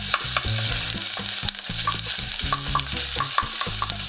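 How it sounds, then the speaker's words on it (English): Garlic sautés in a pan for Brazilian rice, giving a steady close sizzle broken by rhythmic stirring scrapes and clacks of a utensil against the pan, with no talking. "So don't let the garlic burn. There we go. Just a little saute."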